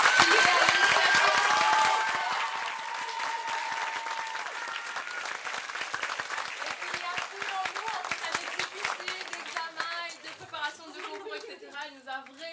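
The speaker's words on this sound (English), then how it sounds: "Je souhaiterais les applaudissements les plus chaleureux pour Madame Amangom Perenayegom Dominique" Audience applauds after a school theatre performance of Macbeth. Loud clapping with cheers at first gradually thins into scattered claps, and chatter and voices rise underneath as it dies away.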